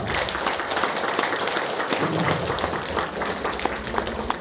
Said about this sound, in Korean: 우리 축복의 박수를 한번 드리도록